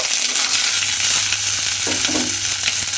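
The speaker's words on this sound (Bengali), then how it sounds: "এবারে ঢ্যাঁড়সগুলো আমি প্রথমে তেলের মধ্যে দিয়ে দেব।" Cut okra sizzles steadily in hot oil, a loud, close, continuous crackling fry with a faint stirring or scraping touch partway through.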